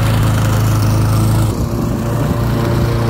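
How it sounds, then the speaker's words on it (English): A lawn mower engine drones loudly and steadily nearby, its tone dipping briefly midway before running on without voices. "mowing the lawn"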